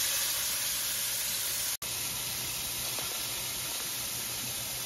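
Veal cutlets fry in a pan with a steady, bright sizzle and hiss. It stays close and even, drops out for a split second near the middle, and no one talks over it.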